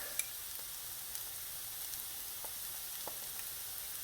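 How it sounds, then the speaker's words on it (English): Chopped vegetables sizzle softly in a pan over medium-high flame for a turmeric vegetable omelette, a steady faint hiss with a few small pops and no voices. "my flame is on the medium high because you want them to start frying"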